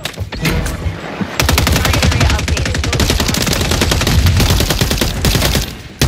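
Rapid automatic gunfire rattles loud and close in a Call of Duty MW3 match, a sustained burst of dense shots after a brief lead-in, cutting off near the end.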